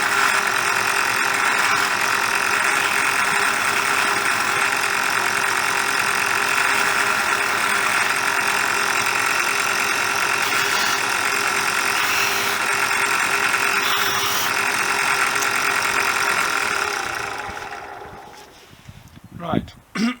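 A slow-running wire wheel cleans small nuts and bolts from a Honda XL250s restoration, a steady close motor whir with brushing grind that runs evenly, then winds down and stops near the end.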